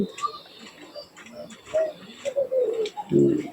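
Imported pigeons coo in soft, low, throaty bursts at close range, with brief quiet gaps and faint ticking sounds between calls.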